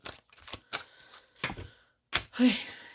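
Tarot cards are shuffled by hand in short riffling bursts, with a few sharp snaps spaced apart, close and fairly quiet.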